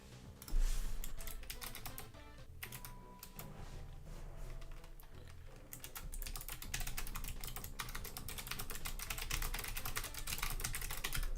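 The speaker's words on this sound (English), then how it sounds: "I love the clickety clack keyboards." A clickety-clack mechanical keyboard is typed on in rapid, irregular bursts of crisp close key clicks, with a short pause midway before the typing picks up again, with no talk over it.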